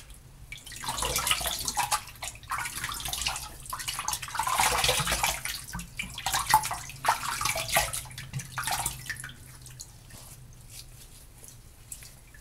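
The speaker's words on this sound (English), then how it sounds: "I'm going to wet my face up again." Water splashed by hand in bursts while wetting the face before a shave, irregular close sloshes and drips from a sink or basin, running on and off through the whole stretch with no talking.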